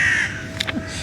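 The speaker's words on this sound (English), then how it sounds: "Looks like the crows like to hear about Srimati Radharani." Crows caw in short, harsh bursts of two or three calls close together, loud over a steady outdoor background hiss.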